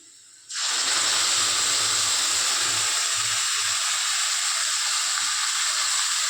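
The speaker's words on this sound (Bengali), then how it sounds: "এবার এর মধ্যে আমি মশলা বাটাটা দিয়ে দেবো।" Ground green chilli, tomato and ginger paste hits hot oil and bursts into a loud, close, sustained hiss and sizzle that starts suddenly and carries on steadily without pause.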